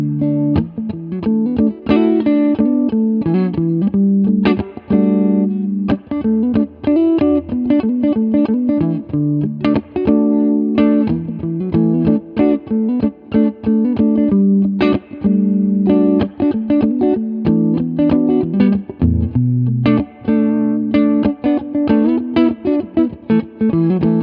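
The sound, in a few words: intermediate guitar chord example played with effects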